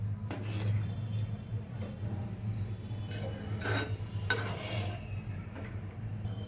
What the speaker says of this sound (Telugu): పేస్ట్ని ఇందులోకి వేసి బాగా మిక్స్ చేసుకోవాలి